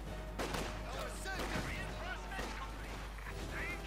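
Rapid Kar-98K rifle fire in the real-time strategy game Company of Heroes 2, sharp repeated cracks in an irregular rhythm amid distant battle noise and other game effects, mixed under a commentator's voice.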